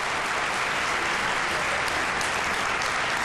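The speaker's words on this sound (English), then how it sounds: "He deserves an applause for just that." A hall of fame induction crowd for Olympic wrestling applauds steadily throughout, a dense, even wash of clapping with no break and no speech over it.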